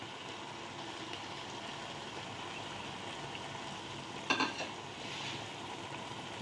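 Chicken simmers in masala for Chettinad chicken curry, a faint steady sizzle and bubbling with one brief stir or scrape of a utensil near the middle.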